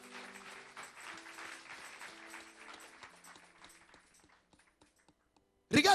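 A church congregation applauding and clapping together in acclamation of the Lord, steady dense clapping that thins out and fades to near silence before a sudden loud burst at the end.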